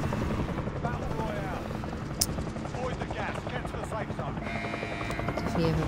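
A helicopter in the Warzone shooter game thrums steadily throughout, a dense continuous rotor wash that stays loud and close from start to finish.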